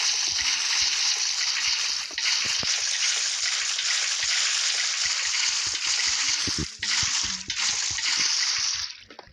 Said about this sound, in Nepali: यसलाई भर पानी